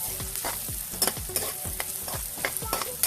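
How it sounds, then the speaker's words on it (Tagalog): Ginger and pork sauté for adobo in a pan, crackling and hissing loudly and close while a utensil scrapes and stirs in quick, repeated strokes. "igisa muna natin ito hanggang mag-golden brown"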